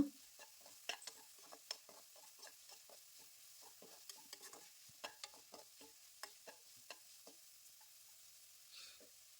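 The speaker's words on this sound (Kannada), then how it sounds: "ಈರುಳ್ಳಿ ಸ್ವಲ್ಪ ಸಾಫ್ಟ್ ಆಗೋವರೆಗೂ ಎಣ್ಣೆಯಲ್ಲಿ ಫ್ರೈ ಮಾಡ್ಕೊಳ್ಳೋಣ." Sliced onions frying in oil for chicken dry roast, a faint sizzle under repeated soft scraping and stirring taps from a spoon in the pan, close and quiet with no voices.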